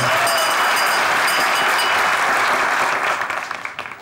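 A studio audience claps loudly and continuously after a comedy sketch on a Turkish sketch-comedy stage show, the dense applause holding steady before tapering off into a few scattered final claps.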